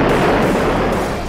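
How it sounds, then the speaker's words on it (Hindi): A bomb blast deep inside a volcano, rendered as a sound effect, makes a heavy, loud, rumbling roar that stays dense and sustained throughout and fades slightly toward the end. "ज्वालामुखी के अंदर एक जबरदस्त धमाका हुआ"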